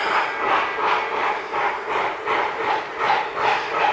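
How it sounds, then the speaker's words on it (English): Denver & Rio Grande Western No. 346 steam locomotive labors slowly uphill at an Easter steam-up at a Colorado railroad museum, its exhaust chuffing in a steady, evenly spaced rhythm, loud and close. "Here comes the D&RG number 346 as it slowly cranks up the hill a little bit."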